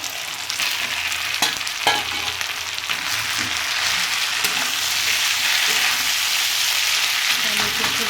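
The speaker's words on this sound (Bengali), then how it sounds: "মশলা ফ্রাই করতে করতে হয়ে গেছে সবজি এবার মাছের মাথাটা দিয়ে দেবো" A fish head is added to spices and vegetables frying in a pan for a radish-leaf dish, giving a constant loud hissing sizzle with occasional stirring clicks and scrapes throughout.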